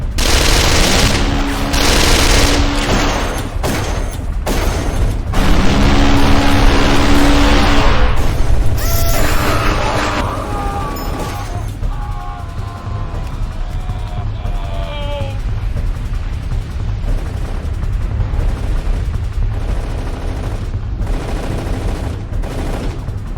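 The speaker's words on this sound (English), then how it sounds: "Protect the flank! We're under fire!" Dense battle gunfire in the video game Darkest of Days, set in Pompeii: loud overlapping rifle and automatic shots in bursts that run throughout, mixed with rumbling and ambient noise and some indistinct shouting.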